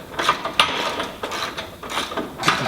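A ratchet wrench tightens a bolt on an APT rear bar being fitted to a Land Rover Discovery 2, a series of close, loud clicking strokes in an uneven rhythm with short pauses.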